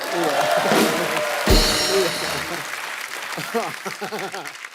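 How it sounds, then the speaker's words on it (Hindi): Studio audience applause and cheering on a televised Hindi comedy talk show, a dense wash of clapping with a louder burst midway, mixed with voices and laughter throughout. "जोरदार तालियां।"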